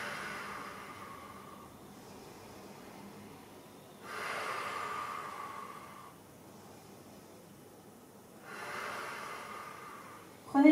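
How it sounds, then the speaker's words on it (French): Heavy breathing after a low-impact cardio workout session: slow, audible breaths in three long cycles, each exhale a loud breathy rush between quieter pauses, close up with no talking. "Inspirez par le nez, soufflez par la bouche pour bien récupérer."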